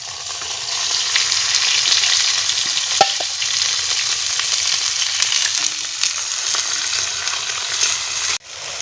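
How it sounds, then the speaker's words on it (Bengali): Chopped onion fries in hot oil in a pan with a steady, close sizzle lasting nearly nine seconds, plus light stirring scrapes and a faint clink; no one speaks. "আমরা এখন প্রথমে তেলখান দিয়ে দিব পেঁয়াজলা ভাজবার জন্য।"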